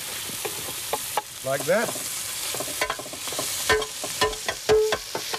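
Pork and onions frying and being stirred in a pot, with bacon, steady sizzle broken by scraping stirs and clanks of a utensil, while someone talks briefly over the cooking.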